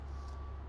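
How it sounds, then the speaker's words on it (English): A steady reversing beep tone from construction vehicles working on the I-26 interstate, faint and distant beneath a constant low rumble of highway traffic, with no talk. "you can probably hear a beeping behind me"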